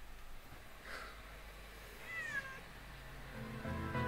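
A tomcat at a veterinary clinic meows a few times, fairly faint and close, with short pauses between the drawn-out cries in a quiet room.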